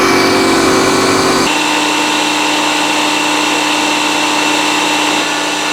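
A vacuum cleaner bought from Costco, its motor spinning at 3,331 RPM, runs at full power with a loud, steady high-pitched motor whine and airflow roar, its tone shifting slightly early on and then holding constant.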